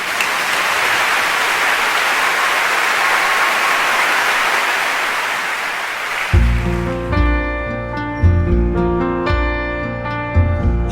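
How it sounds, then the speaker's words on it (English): Concert audience at a 2011 Los Angeles show applauding, a loud, even wash of clapping for about six seconds that cuts off abruptly as instrumental music begins. "please welcome Kerry Walsh with a very, very warm round of applause."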